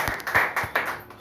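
An audience gathered for a celebration of top achievers claps enthusiastically, a steady crowd applause with individual hand claps standing out briefly.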